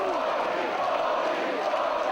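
A wrestling crowd at a live event in Coventry roars in a steady, dense wash of cheering and shouting that holds at one level, close and loud, without any clear single voice.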